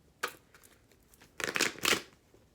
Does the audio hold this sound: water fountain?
no